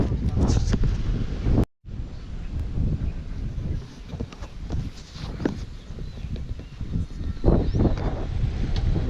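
Steady wind buffeting the microphone on a golf course, broad rumbling noise throughout with a brief dropout near the start, rustling gusts rising and falling.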